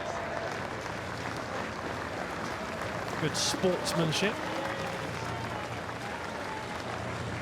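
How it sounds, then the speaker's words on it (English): Polite applause rises from the stewards' enclosure at Henley Royal Regatta as rowers near the finish line, a brief swell of clapping around the middle, heard under steady commentary. "getting polite applause from the stewards' enclosure"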